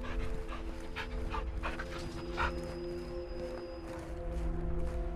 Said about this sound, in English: Do you see the caged dog?